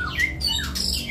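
A caged magpie robin (murai) at a breeding farm sings close and loud, with quick sliding whistles and chirps in a brief burst.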